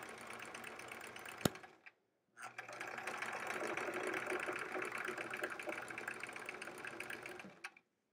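Home sewing machine quilting stitches around circles on a quilt-as-you-go sampler block, a steady mechanical whirr running in two long bursts separated by a brief pause, close and fairly quiet with no talking.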